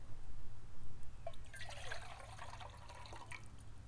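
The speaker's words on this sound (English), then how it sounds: "add some water." Water poured from a camping canteen into a metal canteen cup, a close, soft trickling and splashing that builds and settles over a few seconds with no talking.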